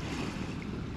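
Sea surf washing onto a stony, weed-strewn shore beside a campsite at Tarkhankut near Olenevka, Crimea, heard as a steady broadband wash with wind rumble across the microphone and no distinct individual breaks.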